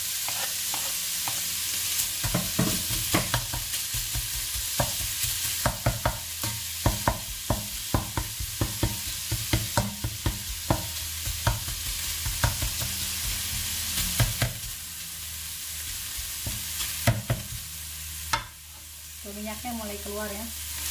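Onion and garlic sizzle in hot oil for Indonesian fried rice (nasi goreng) while a spatula scrapes and taps the pan in quick rhythmic strokes, loud and close, with a few sharper clanks near the end.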